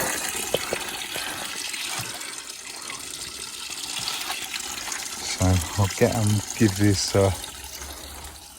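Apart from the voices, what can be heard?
filling a watering can with water from a tap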